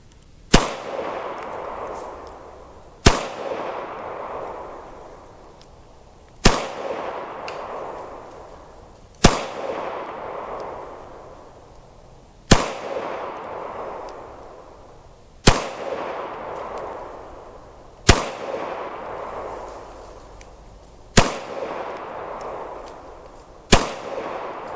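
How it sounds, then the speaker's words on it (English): A compact Glock 26 pistol is fired at 15 yards on a range in a slow, evenly spaced string of about nine sharp, loud shots, each trailing off in a fading echo. "I'm just going to fire these 10 rounds at 15 yards with a little Glock 26 using the new Magpul GL9 magazines"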